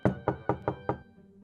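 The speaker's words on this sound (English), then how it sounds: "he'll head over to the door and give it a good old knock." Five firm knocks on a door in quick, even succession, close and loud, followed by a short quiet tail.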